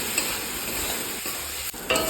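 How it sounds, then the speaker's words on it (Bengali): Egg curry masala with salt and turmeric frying in a pan, a steady close sizzle with stirring scrapes and a couple of brief clinks, no voices. "এগুলো দিয়ে আমি এখন এটাকে ভালোভাবে ফ্রাই করতেই থাকবো যতক্ষণ পর্যন্ত লাল না হয়।"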